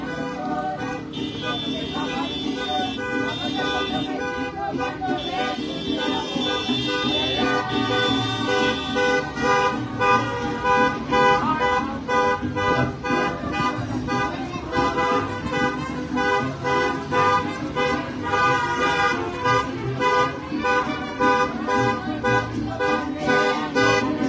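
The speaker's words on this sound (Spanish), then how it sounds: "Si traemos claxon, ¿verdad? Hay que pitarle porque llevamos novios." Car horns toot repeatedly in a wedding procession in Valparaíso, Zacatecas, loud and sustained amid the hum of moving vehicles and a busy street.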